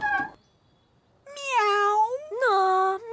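A cartoon cat in PAW Patrol lets out a short sound and then two long drawn-out meows, loud and close, separated by a brief silence.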